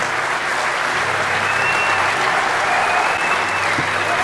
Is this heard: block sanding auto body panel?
no